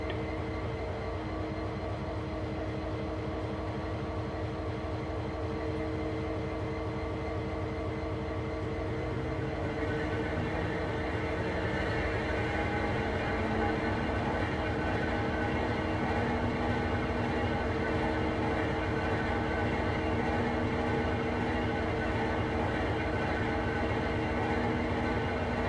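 A locomotive turntable turns in Train Sim World 2 on Sand Patch Grade. A steady mechanical rumble and drone runs throughout with no voices, and its tone shifts slightly about halfway through.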